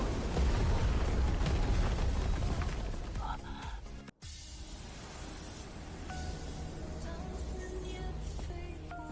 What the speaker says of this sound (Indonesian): Gul, alatnya meledak.